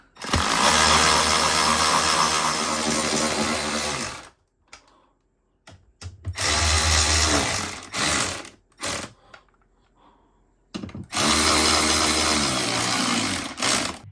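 A power drill tightens fasteners while an RV airflow unit is installed, sounding as loud whirring bursts of three to four seconds each. Short quiet gaps and brief clicks separate them, with no talk.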